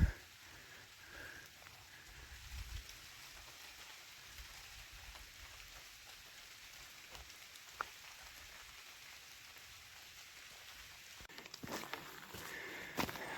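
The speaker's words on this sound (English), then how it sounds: "Might be raining now." Steady, soft rain patters on leaves and ground along the Appalachian Trail in Georgia, a continuous gentle hiss with a few scattered drops and rustles.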